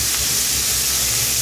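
Bacon frying in a pan, its steady broadband hiss and crackle filling the whole moment at a constant, fairly loud level with no voices over it.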